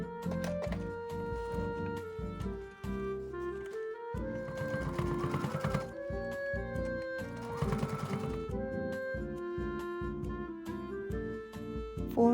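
A sewing machine top-stitches a fabric cosmetic pouch in a steady, close mechanical whir with rapid needle clatter, briefly pausing and restarting a couple of times over a faint musical background.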